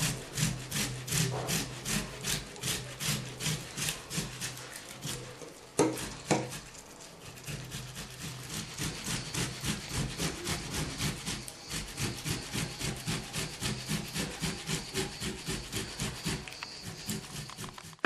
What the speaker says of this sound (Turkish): burada suyunun çıkmasını istediğimiz için rendeyi tercih ediyoruz